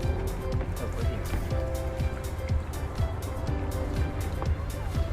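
A boat at Pulau Pisang as people board for a fishing trip, its motor a steady low drone with water sloshing and knocking against the hull, faint voices underneath.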